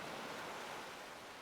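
Water rushes as a steady, broadband roar from a waterfall in a medieval castle building game, continuous and fairly soft, with no talk over it.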